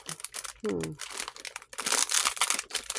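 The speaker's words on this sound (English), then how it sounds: "I'm sorry about the crinkling" Shiny silver packaging crinkled and handled close by, with bursts of crackling rustle, a brief pause, then sustained loud crinkling; a voice is briefly heard early on.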